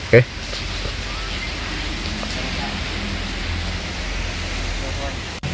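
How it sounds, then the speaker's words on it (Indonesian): Steady rain falling in the early evening around a Toyota Vios Limo Gen 1 during an air-conditioning test, an even hiss of drops with a low rumble underneath and a brief knock at the start. "Sekarang kondisinya hujan dan jam setengah 6 sore gitu."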